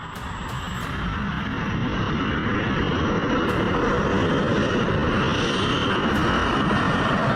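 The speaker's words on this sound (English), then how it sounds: "Grumman B-2 Spirit is flying over the city during daylight." A Northrop Grumman B-2 Spirit bomber passes over a city in daylight, its engine roar swelling in the first second into a loud, broad, steady rumble that holds throughout.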